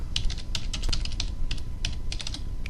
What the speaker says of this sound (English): in the search field, you can actually type Task Manager